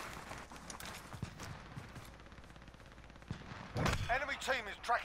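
Gunfire in an online shooter match, sharp sniper-type shots cracking at a distance among scattered impacts, with a louder burst of action near the end and voices talking over it.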